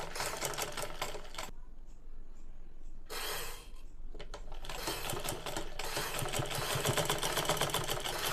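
A sewing machine runs in steady bursts while stitching a round neckline in cloth, with two short pauses between the runs.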